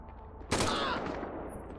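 Police shootout gunfire in GTA V (LSPDFR): one sudden, loud blast of shots hits at about the half-second mark, then a dense crackling roar that slowly fades over the remaining second.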